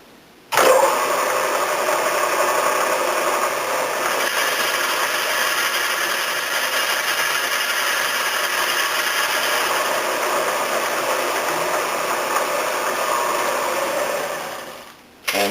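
A metal lathe cuts a sleeve, starting abruptly and holding a steady, fairly loud whirring machining hum with faint scraping for about fourteen seconds before stopping.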